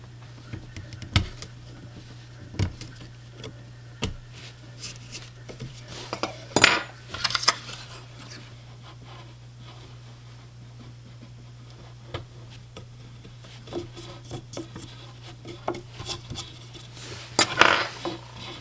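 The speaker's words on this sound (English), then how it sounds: "my goal here is just to chip away at this and just make the epoxy even with the top of the foam grip right here" Old epoxy is chipped away at the top of a foam fishing rod grip on a St. Croix Triumph Surf rod, giving scattered sharp clicks and scrapes with brief clusters of taps over a steady low hum.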